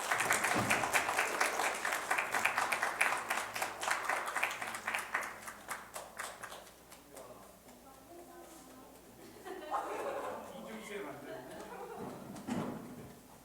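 Applause at a church youth group gathering, dense clapping from a crowd that is loud at first and gradually thins and fades, with scattered voices and some talk near the end.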